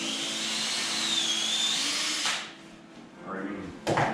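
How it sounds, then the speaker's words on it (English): A power drill whines steadily for a couple of seconds, pre-drilling wood at an angle, then stops, followed by brief voices and a short rattle. "I'm drilling them at an angle to dodge my screw."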